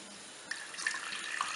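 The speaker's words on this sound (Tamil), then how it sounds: "நான் கொஞ்சம் தண்ணி விடுறேன்." Water is poured into a cooking pot for puli kari, a faint, brief, soft trickle and splash heard briefly on its own.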